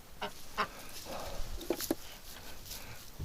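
Ducks and geese in a winter pen give scattered honks and quacks over a low background, a few short calls close by and fairly faint, with no talk.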